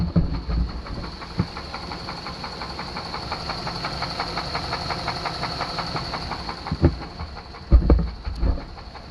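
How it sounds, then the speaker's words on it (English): A Chevrolet Suburban engine runs rough and close, a steady drone with rapid rhythmic ticking and a few heavier knocks and thumps toward the end. "listen to this engine"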